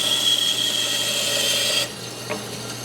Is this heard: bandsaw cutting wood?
yes